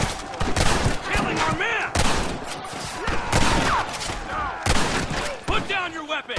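Dense bursts of gunfire from a Western shootout in the video game Red Dead Redemption, repeated loud volleys and rapid shots crackling throughout, with voices shouting over the battle.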